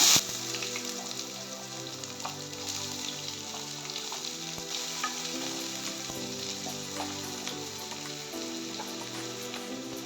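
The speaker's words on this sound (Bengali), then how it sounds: "এখন আমি তেলের উপরে দিয়ে দিচ্ছি তেজপাতা, শুকনো লঙ্কা, দারচিনি আর এলাচ। দিয়ে দিচ্ছি পেঁয়াজ কুচি" Bay leaf, dried chili, cinnamon, cardamom and chopped onion fry in oil with a soft, continuous close sizzle and scattered pops, no voices.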